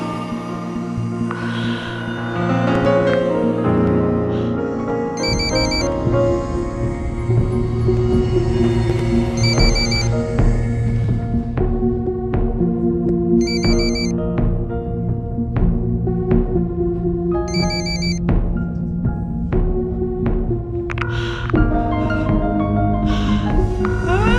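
A telephone rings in short repeated bursts, roughly every four seconds, fairly clear over a steady layer of tonal background sound.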